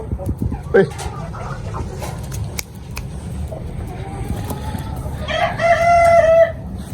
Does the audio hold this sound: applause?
no